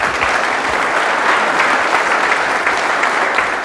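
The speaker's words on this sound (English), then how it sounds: "So give a big round of applause for Michael Schratt." A conference audience applauds steadily for a guest speaker, a dense, even wash of clapping from many hands that holds at a loud level throughout.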